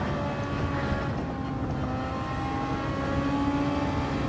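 An opponent's engine drones steadily nearby in a Gran Turismo 7 Super Formula race at Spa-Francorchamps, layered over the player car's constant engine tone with no clear revving peaks.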